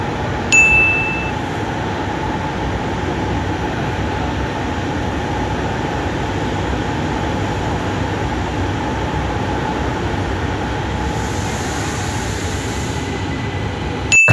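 A Jakarta LRT train ridden from inside the carriage, a steady, loud rumble and hum of wheels and motors running continuously, with short chime tones at the start and end.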